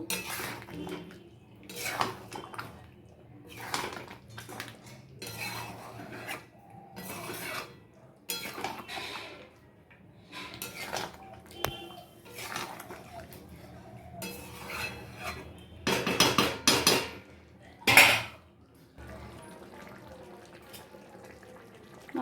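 Chicken masala being stirred and pressed in a pan after a pinch of salt, with repeated clinks and scrapes of a spatula against metal in uneven bursts, close and moderately loud, with no talking.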